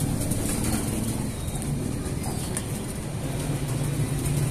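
Racing pigeons that have just flown four laps coo low and steadily, close by, over a constant wash of outdoor noise, with no clear breaks.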